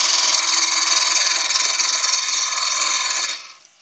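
A wood lathe spins a workpiece while a cutting tool scrapes and hisses against the wood in a continuous bright, rough stream up close, then falls away as the tool comes off.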